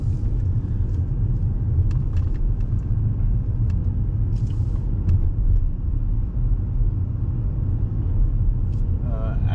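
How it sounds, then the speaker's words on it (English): A 2017 Audi S7 Prestige in its sport transmission setting rolls off, giving a continuous low engine and road rumble heard from inside, with faint clicks scattered on top. "we'll go out just for a quick drive out and back here"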